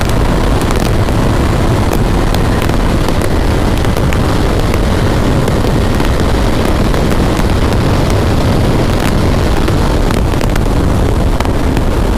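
A motorcycle ridden at high speed, near 160, on an open road, heard as a constant, very loud roar of engine and buffeting wind noise at the microphone, with no let-up for twelve seconds.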